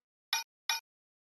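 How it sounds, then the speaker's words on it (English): A small metal percussion instrument in a house-music sample strikes twice in quick succession, bright and ringing briefly, with clean silence around each hit. "and then this little metal percussion thing"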